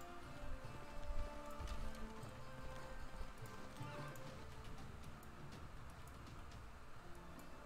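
Steady horse hooves clip-clop in a quick rhythm in Civilization VI, over a busy, faint background of game sounds and music, with no speech.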